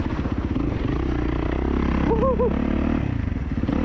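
A 2024 Kawasaki KX450 dirt bike engine drones steadily and loud throughout while being ridden, with a brief rising rev near the middle and no pauses.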